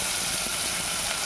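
Food sizzles and is stirred in a pan while cooking mango paneer rice, a steady bright frying hiss with soft scraping movements and a brief louder clatter at the end, no talking.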